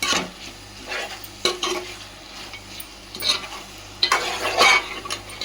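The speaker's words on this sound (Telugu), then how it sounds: "కలుపుకుంటూ ఉండాలి లేదంటే అడుగుంటుంది కొంచెం జాగ్రత్తగా కలుపుకోండి" A spoon scrapes and stirs Andhra-style gongura chicken curry in a pan, giving intermittent scraping bursts over a low simmering sizzle, close and moderately loud with quiet gaps between strokes.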